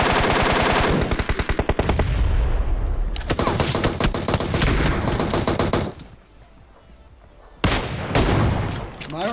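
Automatic gunfire in the PUBG Mobile video game, loud rapid bursts of shots with a brief lull before the firing resumes.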